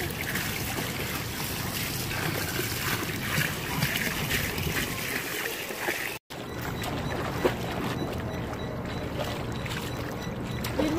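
Water from a pool waterfall splashes and rushes steadily at close range, a dense wash of noise with a brief dropout partway through and faint wind buffeting.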